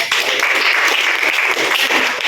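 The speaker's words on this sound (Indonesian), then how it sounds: "kita berikan tepuk tangan untuk" A short, close burst of clapping from students in a classroom, dense and steady with no talk.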